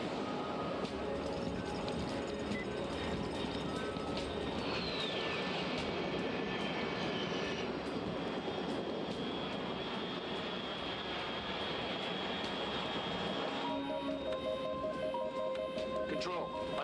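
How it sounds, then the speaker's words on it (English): A distant aircraft drones steadily at altitude in Metal Gear Solid Delta, a low continuous engine rumble with a faint whining tone drifting across it and other steady tones entering near the end. "Unidentified aircraft detected."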